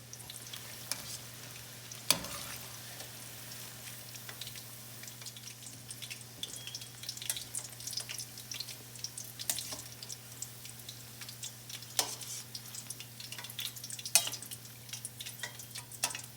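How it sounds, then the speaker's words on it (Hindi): Okra fritters crackle and bubble in hot oil during a second fry, a quiet, even sizzle broken by sharp spatter pops and occasional clinks from stirring. "इन भिंडियों को दोबारा फ्राई करें।"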